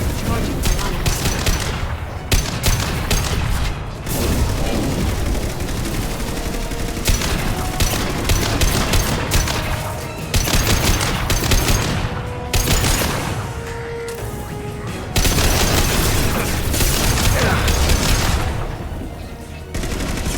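Sustained gunfire from a Mass Effect 2 battle, bursts of rapid shots and heavy blasts repeating loudly for the whole stretch, with brief drops between volleys.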